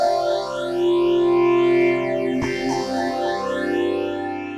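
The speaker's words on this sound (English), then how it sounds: "this is one of the weirder oscillator effects that Vital has" A Vital synth oscillator with the phase disperse effect swept by an envelope produces a sustained, harmonically rich tone whose partials bend and crisscross in sweeping glides, with a sharp click near the midpoint; no voices.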